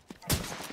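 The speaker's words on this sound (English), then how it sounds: "That was a shot." A single sharp gunshot cracks out partway through a short moment of play in The Division 2, loud and abrupt, then quickly fades.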